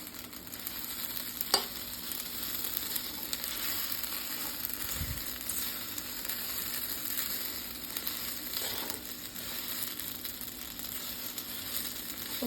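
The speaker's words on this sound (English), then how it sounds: "Then we have to boil like this, and its sound is like this." Pasta boiling in a pot makes a continuous bubbling, sizzling hiss at close range, steady throughout with a few louder pops and clinks.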